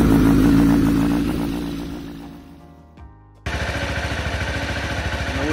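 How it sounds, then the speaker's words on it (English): A motorcycle engine runs loudly, dies away, falls silent for a moment after a brief click, then is cranked and catches, settling into a strong, rapid, pulsing idle close by. "Let's crank the engine."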